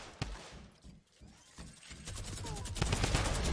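Minigun fire in the Fortnite video game, rapid bursts of shots that start sparse and build into a dense, louder stream toward the end, heard in the mix with no clear voices.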